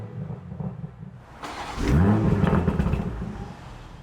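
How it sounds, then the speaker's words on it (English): A BMW M340i starts up in sport mode: a quiet start, then a sudden crank and a loud, close rev flare that settles into a rough, rumbling idle over a few seconds. "I want to show you what the startup sound of the M340i is like"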